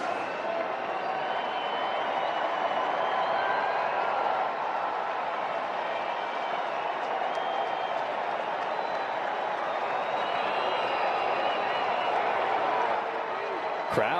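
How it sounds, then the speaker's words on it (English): A baseball stadium crowd at a Seattle Mariners at Chicago White Sox game roars in a steady, dense wash of cheering that holds at an even level throughout. "Crowd getting into it"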